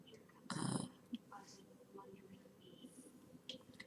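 A man imitates snoring with his voice, a loud nasal snore burst near the start followed by faint breathy sounds and low background chatter.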